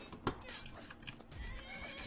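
A horse in the video game Skyrim whinnies within a cluttered game soundscape, with a sharp hit near the start and steady background noise running through.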